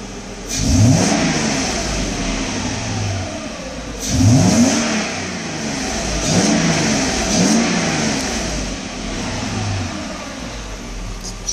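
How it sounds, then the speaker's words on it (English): A Mercedes engine under throttle body testing revs up repeatedly, three or four rising throttle blips a few seconds apart, each climbing sharply and then settling back to a steady running note, loud and close with no talk. "You can see I give it some gas."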